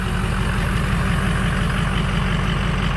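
A 2004 Ford F250 4x4 Lariat Powerstroke turbo diesel with an EGR delete idles on a cold start, a steady, loud low rumble with a rapid knocking diesel clatter running evenly throughout, close by and with no voices.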